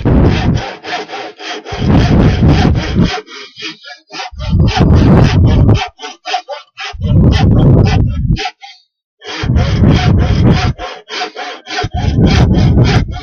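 A hand saw cuts through wood for toy cars in loud, close back-and-forth strokes, working in rhythmic bursts with short pauses between.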